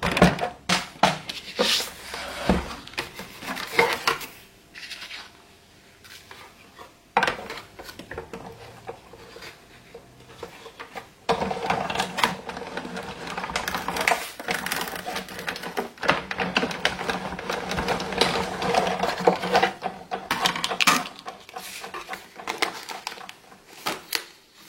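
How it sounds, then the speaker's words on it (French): A die-cutting machine rolling paper card through with dies: clattering, crunching mechanical passes in bursts, separated by brief quiet handling pauses, close and fairly loud. "je vais le placer dans la machine de découpe"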